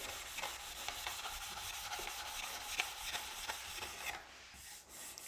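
A red abrasive pad at about 600 grit, used with a sanding agent, rubs back a wood finish on a table in steady, quiet scrubbing strokes close by.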